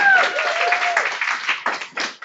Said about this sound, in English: We should have some applause.